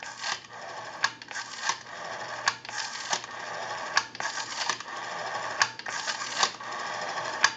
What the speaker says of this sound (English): We have a nice smooth return on our rotary.